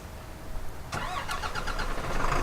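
An Iveco 16-ton truck engine in a driving video game turns over and catches, then settles into a loud, rough running rumble with a layered tonal drone.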